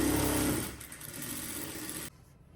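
A sewing machine runs a straight seam on a kurti, a steady close mechanical whir lasting about two seconds before stopping abruptly, with no talking.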